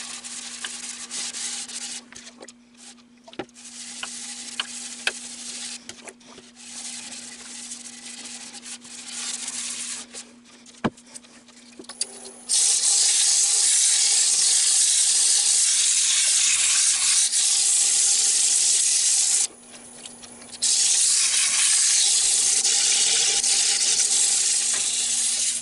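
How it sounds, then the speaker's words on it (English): Wet sanding of a dusty, punky Hawaiian almond wood calabash bowl through successive grits, likely on a lathe: a steady abrasive rubbing hiss that jumps louder and harsher partway through, pauses briefly, then resumes, with no talking. "I'm going to now wet sand it through the grits"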